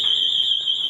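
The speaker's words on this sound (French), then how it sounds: "L'alarme." A household alarm goes off indoors, sounding a steady, piercing high-pitched tone throughout the brief moment.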